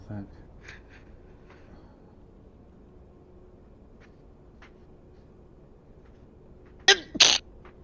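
Two quick sharp sneezes burst out near the end after a long stretch of quiet room noise with faint background clicks.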